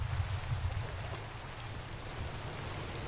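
Minecraft rain falls as a soft, even hiss with a low rumbling undertone, fairly faint and unbroken, with no one talking.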